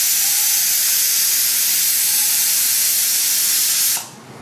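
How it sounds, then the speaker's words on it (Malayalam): Pressure cooker cooking beef vindaloo lets off a loud, steady whistling hiss of steam that holds for about four seconds, then cuts off sharply, leaving a faint residual hiss. "അപ്പോൾ അവിടെ നിന്ന് ഒരു വിസിലടി"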